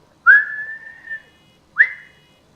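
A person whistles two clear rising notes, the first held long and the second short, loud and close with silence between and no talking.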